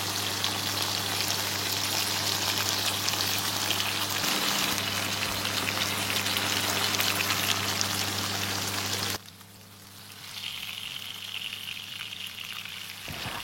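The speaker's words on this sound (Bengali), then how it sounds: "এখানে তেলের মাঝে আমি দিলাইছি, দিয়া আগে ফুরা ফুরা করিয়া ফ্রাই করে লাইমু" Halved tomatoes fry in hot oil with a loud, dense, continuous sizzle up close, which drops abruptly to a quieter hiss near the end.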